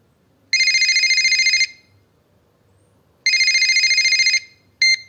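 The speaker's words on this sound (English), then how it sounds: "Jeff and Rosa are talking on the phone" Telephone ringing in an English listening test recording, two long electronic ring bursts separated by a pause, then the start of a third, clear and close over quiet background.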